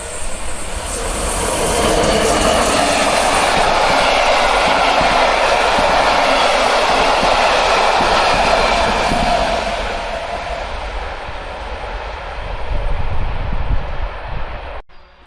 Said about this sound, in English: Here comes Rapid 978 Vysočina from Brno to Prague with electric SO locomotive in charge.